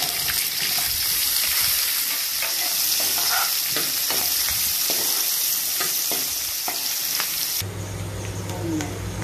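Onions frying in a pan, a loud continuous sizzle with occasional stirring scrapes, close up, ending abruptly into quieter background hum.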